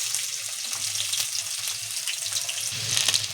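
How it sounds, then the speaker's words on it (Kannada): Onions sizzle in hot oil in a pan for tomato chutney, giving a continuous, crackling hiss at close range with no voices. "ಎಣ್ಣೆ ಕಾದ್ಮೇಲೆ ಈರುಳ್ಳಿನ ಹಾಕ್ಕೊಳ್ಳಿ"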